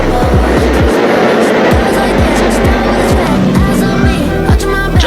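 A 1950s Alfa Romeo Formula 1 race car leads at Silverstone, its loud engine roaring and then a series of cars sweeping past one after another in rapid succession, with constant circuit noise.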